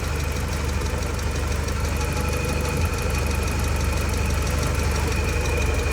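Porsche 944 project car engine running steadily just after starting, a continuous low idle rumble with a faint ticking knock, close and alone without talk.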